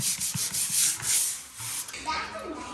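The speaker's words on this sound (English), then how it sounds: "grit sandpaper, because I want to take the slipperiness, the shine off of the surface." Fine-grit sandpaper scuffs a wall surface before wood veneer wallpaper goes on, giving close rasping strokes that repeat in a steady rhythm and then become a lighter, softer rub near the end.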